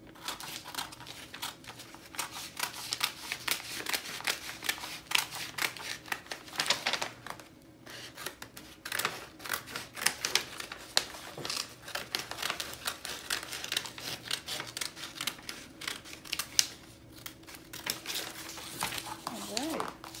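Scissors cut fabric dress pattern pieces for a circle dress with a yoke, making crisp, rapid snipping and crinkling of paper and cloth close by, steady and busy throughout, with a voice speaking now and then.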